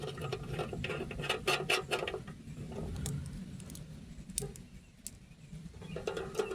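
A rubber washer, a metal washer and a locking nut are fitted onto a metal ammo can, giving quiet, close clicks, ratcheting and metallic rattles in uneven bursts.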